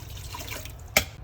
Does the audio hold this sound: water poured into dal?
yes